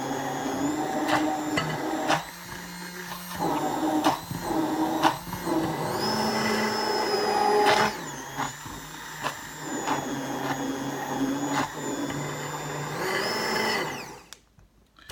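A small electric blender or frother whirs while mixing keto coffee until frothy, a close, loud motor whine that runs in bursts with brief pauses and pitch changes, then cuts off near the end.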